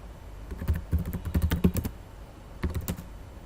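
Rapid keystrokes on a computer keyboard while entering an Excel formula, in two quick clusters of clicks separated by a short pause, close and clear with no talking.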